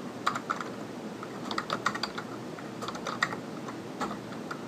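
A computer keyboard being typed on while a spreadsheet formula is entered, with irregular light key clicks in small bursts over a faint background.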